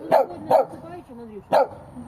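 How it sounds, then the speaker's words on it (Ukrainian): Dogs bark in three sharp bursts with pauses between, close and loud, with someone speaking between the barks. "На мене гавкають, бо я незнайома з людьми."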